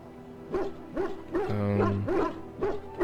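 A Mabari war hound in the fantasy game Dragon Age: Origins gives several deep, rough barks and growls in an uneven rhythm, close and loud, with a low droning tone swelling in the middle.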